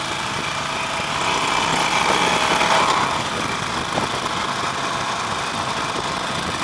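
Harley-Davidson Nightster 1200 motorcycle engine under hard throttle, a steady broadband mechanical roar with a rattling, buzzy texture that swells slightly mid-way and holds constant, close and fairly loud with no talking.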